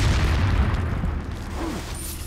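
A bomb blast in Resident Evil 4 gameplay, a deep rumbling boom that fills the opening moments and then slowly fades, with no voices over it.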